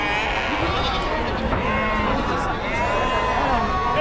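Sheep bleat repeatedly amid the busy goat and sheep market at Chakan, Maharashtra, with crowd chatter and voices mixed underneath the overlapping calls.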